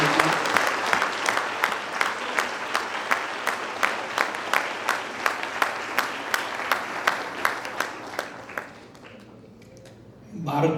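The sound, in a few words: audience applause at blind cricket conclave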